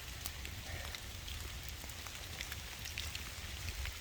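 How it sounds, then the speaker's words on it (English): Heavy rain falls steadily in the Peruvian Andes, a dense continuous patter of drops on surfaces without pause or voices. "Pissing down rain."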